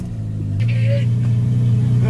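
A car engine idles with a low steady rumble, then steps up to a slightly higher, fuller drone as it is revved a little, staying loud and close throughout.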